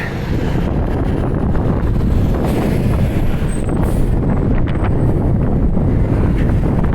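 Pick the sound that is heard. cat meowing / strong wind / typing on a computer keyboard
strong wind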